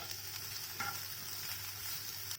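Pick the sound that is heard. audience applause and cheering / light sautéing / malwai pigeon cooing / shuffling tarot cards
light sautéing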